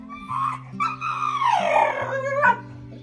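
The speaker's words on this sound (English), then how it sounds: "Not a bark, but something closer to a howl, almost like the roar of a dinosaur." A rescued pit bull lets out a drawn-out, wavering howl that rises and falls over a few seconds, loud and close, with a low steady hum underneath.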